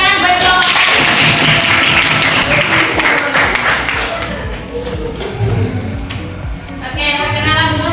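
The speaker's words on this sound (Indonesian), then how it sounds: "Beri tepuk tangan buat kelompok." A classroom audience claps for a student group stepping up to present: a brisk, dense burst of hand clapping that thins out and fades, with voices talking as it dies away.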